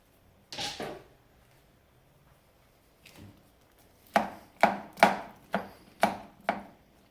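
A knife chops a green pepper on a cutting board: two isolated cuts, then a quick run of six sharp, evenly spaced knocks against the board, close and crisp.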